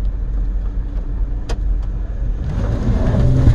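Wheelchair van fitted with hand controls pulling away at full throttle, a steady car engine drone that swells and grows louder toward the end as it accelerates.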